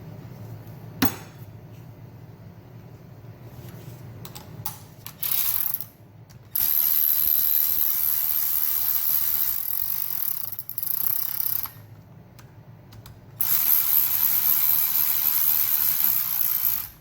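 Ratchet clicking while cylinder head bolts are tightened on a MINI Cooper N12/N16 engine, with a sharp knock early on, then repeated bursts of close, bright mechanical clicking separated by short pauses.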